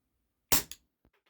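A WE Tech Bulldog airsoft gas blowback pistol fires one loud, sharp shot on propane with 0.12 gram BBs, followed by a quick slide-cycling clack and a few faint small clicks, with no talking.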